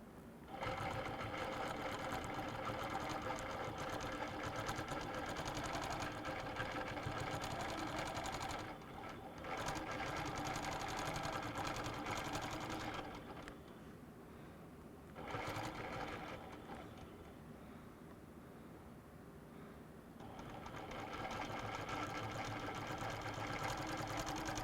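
A sewing machine stitches diagonal in-the-ditch quilting lines on a guitar-pattern quilt, its rapid even whirr running steadily with a few brief pauses and slowdowns.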